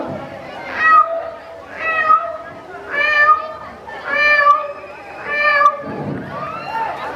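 A schoolchild at a school talent show imitates a cat, giving a series of about six drawn-out meows in a steady rhythm, close and fairly loud.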